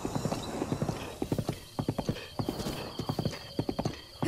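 Galloping hooves of a giant horse in the Breath of the Wild video game, clip-clopping in quick rhythmic bursts with a brief neigh, loud and close, no talking.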